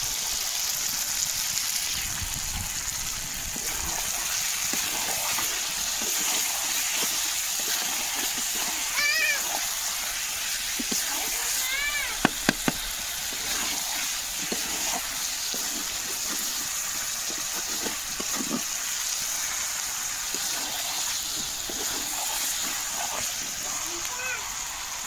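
Water splashing and gushing into chicken curry cooking on a wood-fired stove, a continuous close wash of liquid with the fire's background hiss and a few clatters of the pot.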